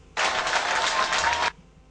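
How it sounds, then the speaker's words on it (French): Audience applause in a hall at an official ceremony, a dense burst of clapping that starts abruptly, holds steady for over a second and then cuts off sharply. "Applaudissements dans la salle"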